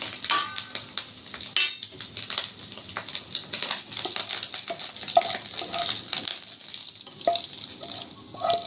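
A cooked egg is set down in a home kitchen amid a busy run of small clinks and taps of dishes and utensils, close and scattered, with no talking.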